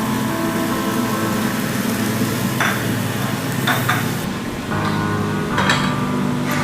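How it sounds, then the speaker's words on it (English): Grilled scallops sizzling steadily while being basted, a continuous loud hiss and crackle with occasional brief clinks and scrapes of a utensil. "A little more basting here."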